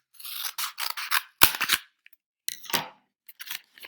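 Scissors snip up the side of a cardboard paper towel roll in short, crisp bursts of cutting and rubbing, with small pauses between strokes, close and fairly quiet.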